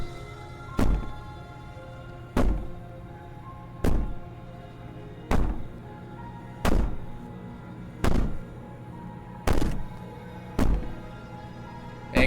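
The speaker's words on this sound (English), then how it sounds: "Bang on the door all you want." Heavy bangs on a door in the video game Slay the Princess: eight or nine loud, booming thuds at a slow, even pace, each well apart, with a dull hum between them.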